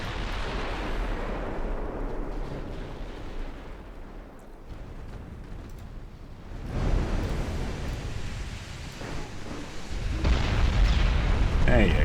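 Torpedo explosions in a British naval campaign video game, deep rumbling booms that swell and fade like distant blasts over water, growing heavier toward the end.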